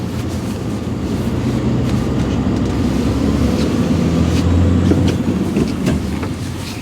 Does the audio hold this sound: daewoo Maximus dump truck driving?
yes